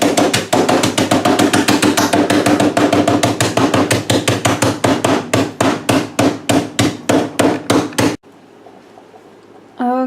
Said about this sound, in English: I don't know how to mallet, but I have a hammer.